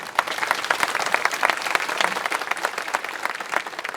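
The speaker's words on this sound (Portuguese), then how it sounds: "merecem nossa salva de palmas agradecida" A church congregation at a Saint Francis triduum Mass bursts into lively applause, a dense, bright patter of many hands lasting about four seconds with no talking.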